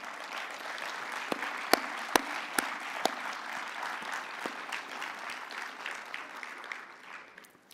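Audience at an Internet Governance Forum 2021 closing plenary applauds, a broad steady wash of clapping with a few louder nearby claps standing out, tapering off at the end.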